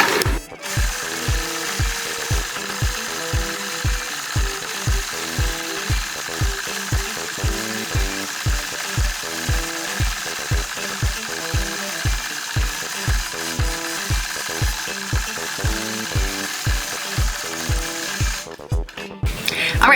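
Sewing machine free-motion quilting bubble shapes on a strip, a steady fast run of close, loud rhythmic needle thumps over about twenty seconds with a brief rattle near the end.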